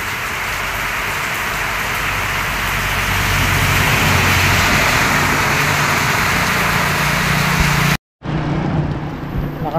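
A loud, steady downpour of heavy rain roars in front of a roadside store with engine sound mixed in, briefly cutting out near the end before resuming.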